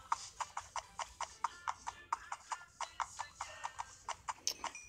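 Rhythmic clip-clop of donkey hooves in the Minecraft video game, a steady run of about twenty evenly spaced hoof steps, clear and close, with a brief animal cry near the end.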